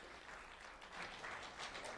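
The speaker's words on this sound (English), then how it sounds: "Let's have a round of applause for Trenton Snyder." A school audience at a community award event applauds a student being honored. The clapping is faint and steady, a soft even patter that lasts two seconds with no voices over it.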